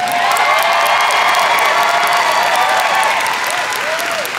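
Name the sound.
audience applause for a tap dancing fursuiter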